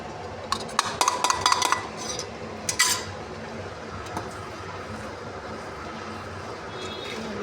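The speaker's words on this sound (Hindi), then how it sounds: "इसको अच्छी तरह से मिक्स करेंगे, आस्ते आस्ते चम्मच हिलाना है" A metal spoon clinks and scrapes against a cooking pot of chicken soup as egg is stirred in, with a quick cluster of sharp clinks early, another burst a moment later, then a quiet simmering background.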